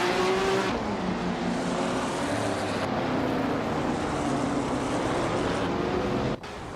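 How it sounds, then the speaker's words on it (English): A 1966 Chaparral 2E race car drives in a racing video game, its engine droning steadily at high revs, with a short whine early on before the sound cuts lower near the end. "Maya is driving a 1966 Chaparral 2E, known for its innovative aerodynamics and high-speed capabilities."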